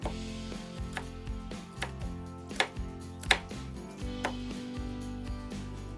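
A knife chops four green beans on a board, a series of irregular, soft knocking cuts, close by, over a quiet musical background with no talking.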